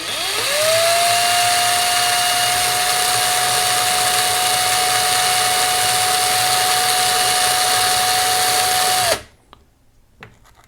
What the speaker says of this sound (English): take some sandpaper and spin it with the drill running